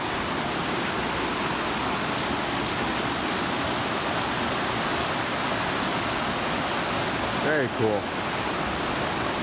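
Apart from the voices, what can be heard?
mountain river flowing below a trail bridge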